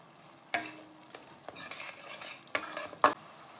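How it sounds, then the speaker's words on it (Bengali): Spice paste cooking down in a pan for stuffed aloo dum, a spatula scraping and stirring in several distinct strokes over a soft, low sizzle. "ভালোভাবে আমাদের মশলাটা কষাতে হবে।"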